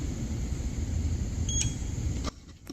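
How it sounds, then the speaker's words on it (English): A steady electrical hum from a NEXXBIKE X5 Plus electric dirt bike runs along until a single short power-off beep sounds, and soon after the hum cuts out, leaving near silence with faint clicks. "it does one beep. Shut your bike off."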